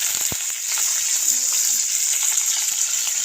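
Vegetables frying in hot oil for an Assamese home-cooked dish of dhekia fern greens, chickpeas and potatoes, a steady continuous sizzle that holds loud and even throughout with faint clinks.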